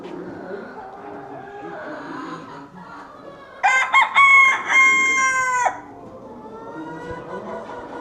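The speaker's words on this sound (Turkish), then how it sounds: "Sarı tavuk." Hens cluck softly in the background at a small-animal show in Leingarten, then a rooster lets out a loud, close crow lasting about two seconds before the clucking resumes.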